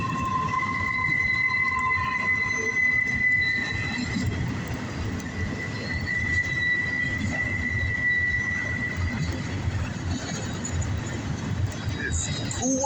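A southbound CSX freight train rolls past on wet rails on a cool, rainy morning, a steady broadband rumble of wheels and cars with sustained high squealing tones, loud and continuous throughout.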